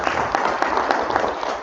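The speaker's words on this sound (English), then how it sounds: "a round of applause again for this young researcher" An audience at a research conference applauds: a steady, dense wash of many hands clapping, with a few sharper claps standing out, filling the room for a couple of seconds.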